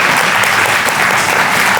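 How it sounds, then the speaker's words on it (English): Sustained applause from an audience at an educational panel during a cultural festival, loud and dense, filling the room steadily without a break. "I will invite you to give them another round of applause"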